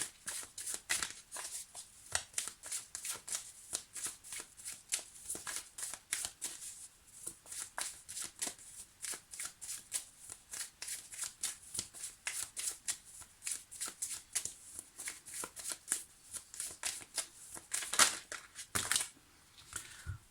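Tarot cards are shuffled over and over for a reading, a long steady run of soft riffling and slapping, close and continuous with brief pauses.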